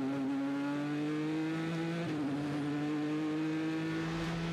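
GTE Pro race cars battling for position at Le Mans, a loud sustained engine note with rising pitch that drops briefly as one car shifts, then climbs again, with no talk over it.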